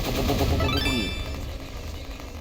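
A loud burst of machine-gun fire in a Roblox game, dense in the first second and then trailing off into a fainter ringing tail, with no talking over it.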